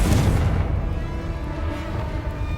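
Confringo fire spell blast in Hogwarts Legacy, a single loud booming burst at the start that rumbles and fades away over a couple of seconds.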